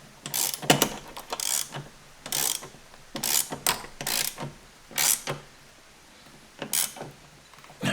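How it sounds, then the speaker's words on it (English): A hand ratchet clicks in irregular bursts while tightening a bolt on a 2022 Harley-Davidson Road Glide rider backrest, close and crisp, with short pauses between strokes and no talk. "And then I'm going to tighten this down."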